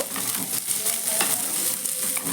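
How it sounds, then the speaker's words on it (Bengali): Chopped onion fries lightly in a pan for a spiced filling, giving a continuous close hiss with soft scraping and stirring throughout. "পেঁয়াজটাকে আমি একটু হালকা ভেজে নেব"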